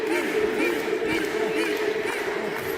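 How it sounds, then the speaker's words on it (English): Wrestling event crowd cheering and shouting at a live show, a loud continuous roar of many voices with rising chants, heard close and steady throughout. "Crowd are hot for it."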